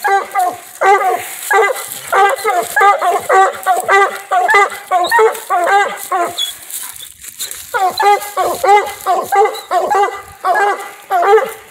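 A coonhound bays at a tree while hunting raccoon among old dead trees, giving loud, close, rapid bursts of barking in quick repeated runs, pausing briefly midway before resuming.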